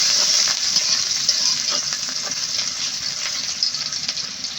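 Onions frying in oil with cumin for a village-style egg curry, a loud, dense and continuous sizzle with faint stirring scrapes running under it for the whole stretch.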